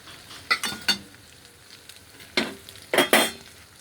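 Fried prawns and egg are stirred into cooked rice in a pan, with several sharp scraping and clattering bursts of utensil on pan, in two clusters separated by a quiet pause, close by with no talking.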